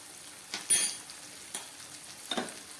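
Katla fish and spices cook in a pan on low heat, a faint steady sizzle broken by a few sharp scraping strokes of a utensil against the pan, close and alone.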